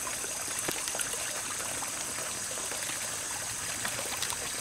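Creek water flows and trickles in a steady, soft wash with small splashes, heard alone outdoors at low volume.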